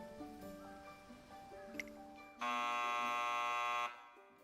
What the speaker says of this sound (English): the curtains rise to a slightly concerning buzzer noise